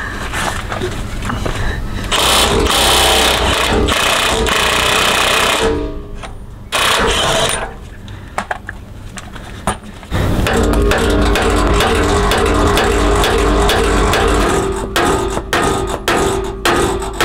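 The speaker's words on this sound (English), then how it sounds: "the sledgehammer did the job" Heavy sledgehammer blows knocking the lower ball joints out of a first-generation Toyota Sequoia's suspension, loud, dense and continuous metallic pounding with brief pauses, alone with no talk.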